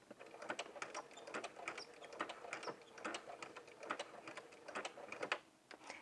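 A sewing machine back stitches jumpsuit fabric in a quiet run of rapid, ticking needle strokes, faint and fairly close, with no talk over it.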